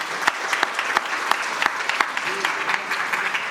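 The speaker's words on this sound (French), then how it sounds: "Alors, Benoît, que l'on accueille sous les applaudissements chaleureux du public." Conference audience applauding warmly during a round-table session, steady clapping from a moderate crowd with a few sharper individual claps standing out, brief talk underneath.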